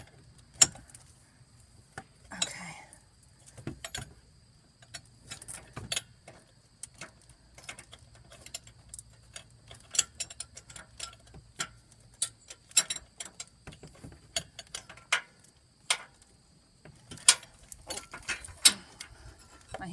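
A wrench tightens the power steering sensor on a 2004 Dodge Durango, giving sharp, irregular ratcheting clicks and metallic taps scattered through a quiet background with no talking.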